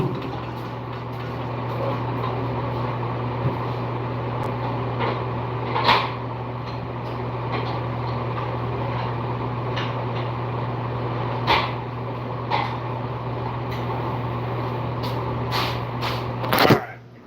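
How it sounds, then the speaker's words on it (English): A stand mixer kneads bread dough with a steady, droning motor hum and occasional soft knocks and clunks from the bowl. "let's go ahead and throw this on the mixer"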